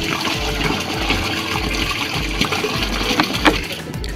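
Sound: water filling a seed treater during a test run

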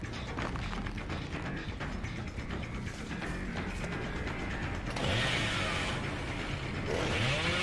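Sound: Bubba revving his chainsaw in the video game Dead by Daylight

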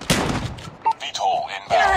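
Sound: gunshots in a multiplayer shooter video game

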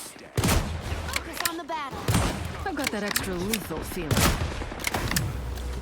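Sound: gunfire from Black Widow in video game Marvel Rivals

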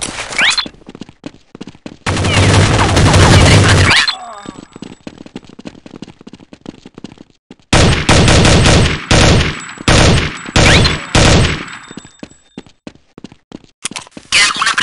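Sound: gunfire in the video game Counter-Strike: Condition Zero

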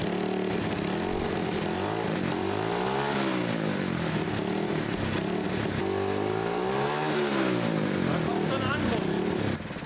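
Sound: hoverbike engine revving up its two radial blowers

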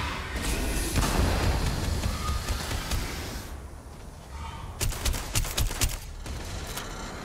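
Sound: incendiary laser weapon firing in Starfield video game

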